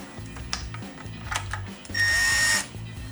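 Cordless drill on a low clutch setting, about 5 inch-pounds, driving a bolt for an LED reverse light on an offroad vehicle. A brief high whir under half a second sits over steady background music-like tones.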